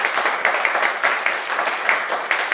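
Audience applause at a live music show on a radio stage, a dense, continuous wash of clapping with a few cheers, fairly loud and sustained.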